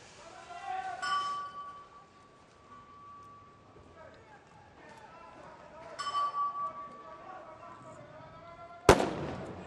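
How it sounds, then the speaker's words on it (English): Sniper rifles fire at a 100-meter target during a SWAT team competition, giving a few distant, spaced reports and one sharp, loud crack near the end, while a commentator talks over the range. "First shots are away from the snipers on the shorter of their two challenges"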